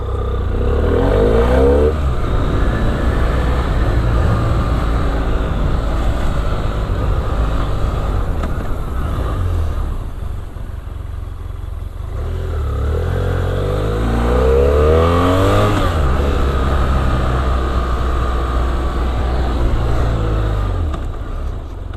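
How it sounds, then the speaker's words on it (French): A 2017 BMW F800R motorcycle weaves through a slalom on a licence-training track, its mid-range engine revving up and easing off in repeated swells. It stays close and loud throughout, with no talking. "je vais tester un petit peu l'agilité de la moto lors de l'évitement"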